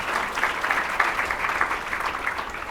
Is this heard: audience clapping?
yes